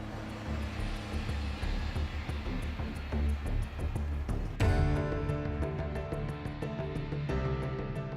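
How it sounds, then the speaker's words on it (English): A bush pilot's propeller airplane flies through the mountains of the Alaska Range near McKinley, its engine a steady, loud drone that holds throughout with a slight shift in pitch partway through. "The plane threads its way through the mountains."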